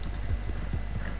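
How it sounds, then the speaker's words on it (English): Horse hooves clip-clop at a steady walking rhythm in Red Dead Redemption 2, fairly close and clear, with low ambient rumble underneath and no voices. "By the way, this is my horse, Sam, if you haven't met."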